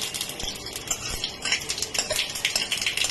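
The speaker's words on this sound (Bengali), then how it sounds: "এর মধ্যে সর্ষে আর সাদা জিরে ফোড়ন দিয়ে দেবো" Mustard seeds and cumin sizzling and popping in hot oil in a wok, a steady crackling hiss with scattered sharp pops throughout, close and moderately loud, with no talking.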